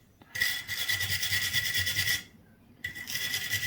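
A wire brush scrubs a bolt during footpeg and mount work on a DR200 motorcycle, a close, harsh rasping stroke run steadily for about two seconds, a brief pause, then scrubbing resumes.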